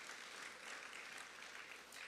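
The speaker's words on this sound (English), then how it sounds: "A big round of applause to our President." Applause from the audience at a governors' luncheon, a dense, even wash of clapping held at a steady level throughout, with no voices over it.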